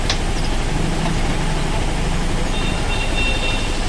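A motorcycle engine after a half engine service runs steadily with a constant low rumble and mechanical clatter, loud and close, with no talking over it.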